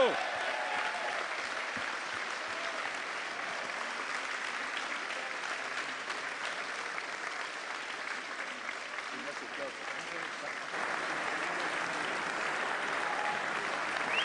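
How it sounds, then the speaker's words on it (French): Steady applause from an audience at a prize-giving for a French windscreen-replacement championship, sustained and fairly loud throughout, with a slight swell near the end. "je voudrais que vous l'applaudissiez énormément, Benoît du pôle Grand Est."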